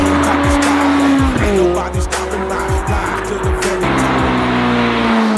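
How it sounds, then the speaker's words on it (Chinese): A V8 sports car costing over two million yuan starts and revs hard, its loud, close engine note rising and falling through repeated throttle blips in a steady, aggressive roar. "这是一台200多万 V8 发动机的车子"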